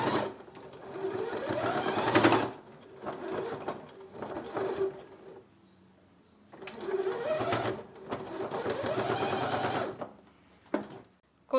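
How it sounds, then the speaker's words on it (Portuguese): Sewing machine stitching fabric for a napkin-holder basket, running in two bursts of rapid, even stitching separated by a quiet pause, close and alone. "E eu vou fazer a minha costura à máquina."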